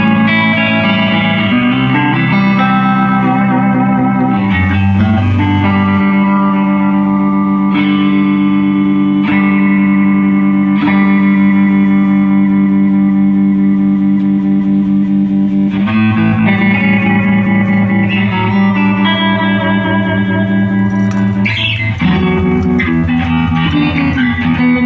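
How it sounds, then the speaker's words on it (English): A 1974 Fender Twin amplifier plays sustained guitar chords and notes with its reverb and vibrato switched on, giving a loud, steady, shimmering wash with trailing reverb tails and no talking. "Working vibrato and reverb."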